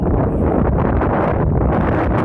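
Strong, steady wind at the hilltop People's Park in the Sky in Tagaytay City roars and buffets the microphone throughout, a dense low rumble with no voices.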